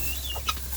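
A backyard chicken clucks briefly inside its coop, a single short cluck standing out over a steady low background hum.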